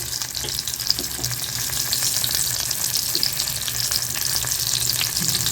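Steady, dense sizzling of tomatoes roasting and charring in a pan for a black spicy chutney, continuous frying hiss close up with occasional stirring.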